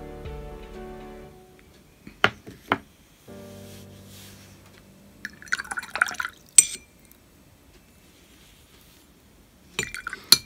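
A paintbrush loaded with gouache is swished and tapped against a water glass, giving a few scattered liquid sloshes and glassy clinks separated by quiet gaps, close and moderately loud, with no one talking.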